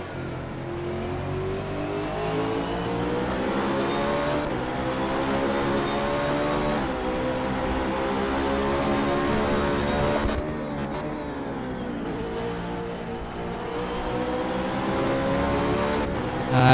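Race car engines in a three-hour endurance race at Interlagos in a racing video game, a loud continuous engine drone with revs climbing and dropping through gear changes, no talking.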